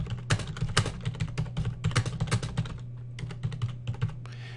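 Typing on a computer keyboard: rapid, uneven bursts of close, crisp key clicks with brief pauses, no talk.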